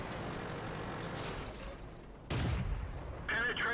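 Tank cannon fire in World of Tanks, a sudden heavy boom partway through followed by a rumbling tail, then a second sharp blast with a ringing metallic hit over constant engine drone.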